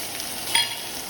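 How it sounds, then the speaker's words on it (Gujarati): Vegetables with garlic frying in a pan for a lasagna filling give a steady, close sizzling hiss that runs unbroken for about a second, with one slightly louder crackle midway and no voices. "2 મિનિટ માટે જ ફ્રાય કરવાનું છે."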